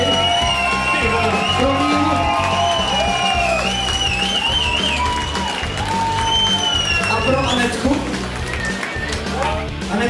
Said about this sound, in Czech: Aplaus tady.